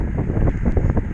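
Wind buffeting a cyclist's microphone while riding alone through the Mendips, a steady low roar close up that swells and gusts without letup, with no voices.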